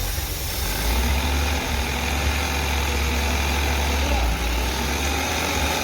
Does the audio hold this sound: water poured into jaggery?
no